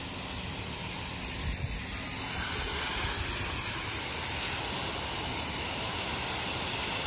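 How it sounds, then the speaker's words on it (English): Water sprayed from a hose onto a fishing boat to apply Salty Seaman salt wash, a steady broad hiss of spray running continuously throughout with no talk. "You just hose it on and then wait for it to run out in there and then hose it all off."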